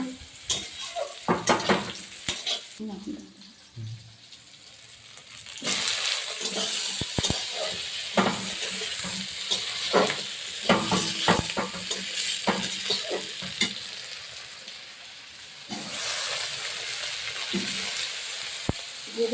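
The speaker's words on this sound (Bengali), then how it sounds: "লঙ্কা কুচি ভাজা হয়ে যাবে" Chopped green chillies sizzle and crackle in hot oil in a pan while a fish and potato curry is being cooked, a steady loud fry with scraping stirs and brief utensil clatter throughout, no talking.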